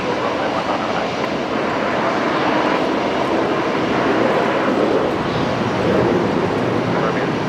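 An airliner at Brisbane Airport at night gives a steady, loud, broadband engine roar that holds evenly throughout without breaks.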